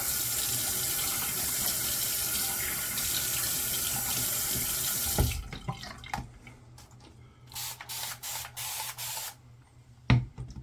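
Tap water runs steadily into a sink during a shave, a continuous splashing rush that stops halfway, followed by scattered drips, splashes and hand-splashing sounds of water on a face.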